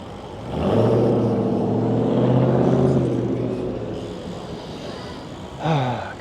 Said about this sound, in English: Home of pricks with loud cars.